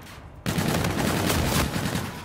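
Rapid sustained gunfire in the shooter game Infinite Warfare starts abruptly after a brief quiet moment and keeps going as a dense, loud burst of automatic fire for about two seconds.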